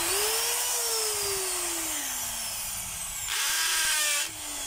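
A power drill whirs continuously in hammer mode, its pitch sagging and recovering under load, with a brief louder burst toward the end; no one speaks.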